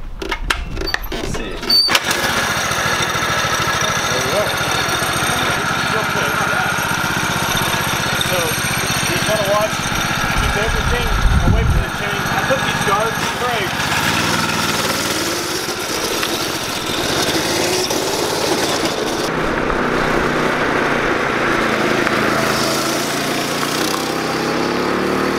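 A $500 Craigslist go-kart engine cold-starts and settles into a steady small-engine idle, running continuously and fairly loud with a low thump near the start, while a voice talks over it throughout.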